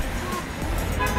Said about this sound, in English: get a couple honks for puppy love